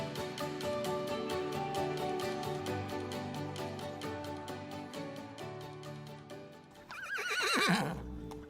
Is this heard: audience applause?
no